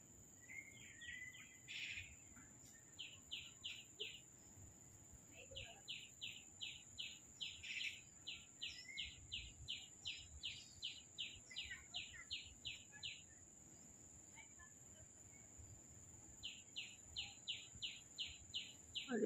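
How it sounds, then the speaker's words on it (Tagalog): Birds sing in a quiet park, repeated bursts of bright chirping phrases sounding at a moderate distance over faint low background hum, with long runs of rhythmic calls and a few pauses. "tunog lang ng mga ibon yung naririnig"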